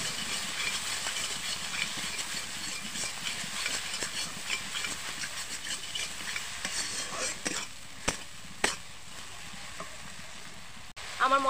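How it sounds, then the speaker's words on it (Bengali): Spice paste with ground coriander leaves fries for a chicken curry: a continuous loud, bright sizzling hiss with scattered scraping and clicking from stirring, and a couple of sharper knocks toward the end. "দিয়ে ভালো করে মশলাটা কষিয়ে নেব।"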